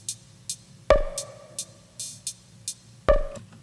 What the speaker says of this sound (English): including this part from another drum machine called the Drum Brute Impact,